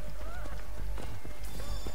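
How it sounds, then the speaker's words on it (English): Horse in Assassin's Creed Origins, hooves clip-clopping in a steady galloping rhythm with a short neigh, close and loud over game ambience, with a voice talking faintly underneath. "I tried to pick up the horse, but it's not my horse."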